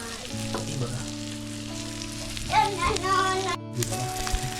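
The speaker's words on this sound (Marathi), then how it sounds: "इकडे आपली मच्छी फ्राय होते" Fish fries in a pan in a Ratnagiri village home, a steady crackling sizzle with a droning hum and a voice talking faintly over it, then a brief gap before the frying resumes.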